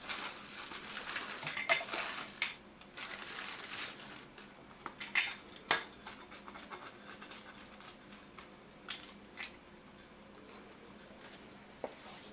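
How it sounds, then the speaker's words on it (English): A pizza cutter rolling through a pizza-style sandwich, faint metallic clinks and scraping taps scattered irregularly, close and quiet with no talk. "Get my pizza cutter and cut it right quick."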